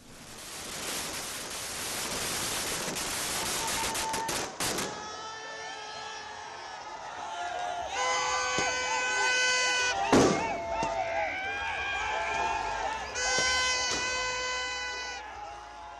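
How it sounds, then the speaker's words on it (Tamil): Firecrackers burst in dense, crackling volleys through the first five seconds as cricket fans crowd the streets in India to celebrate the Champions Trophy 2025 win. Sustained horn-like tones and crowd noise follow, with a single sharp bang near the middle. "ரசிகர்கள் தெருக்களில் குவிந்து பட்டாசு வெடித்து உற்சாகமாக கொண்டாட்டத்தில் ஈடுபட்டனர்."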